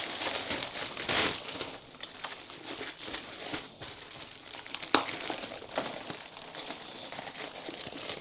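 Plastic packaging crinkles and rustles while an order is packed, with close, uneven crackling bursts and a few sharper crunches.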